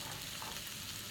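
Smoked meat browning in a pot while making gumbo, a loud, steady sizzle and crackle filling the short moment without voices.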